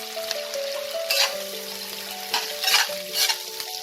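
Two medium chopped onions sizzle in hot oil while being fried to light brown for a Bengali fish-head chorchori, with a steady crackle and several scraping stir strokes, under faint background music.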